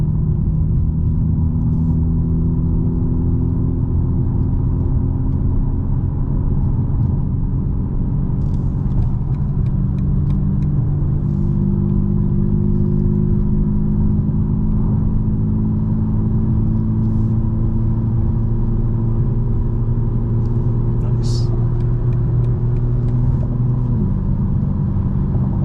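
A 2024 BMW M4 Competition G82 drones along in traffic with its exhaust valves open and burbles switched off, a deep, steady engine rumble that shifts pitch gently as the car cruises, loud and continuous from inside the car.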